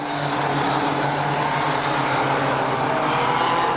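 Pack of race cars on a track at a Granby final, a dense, constant engine roar from several cars together at close range with no pause, and no talking.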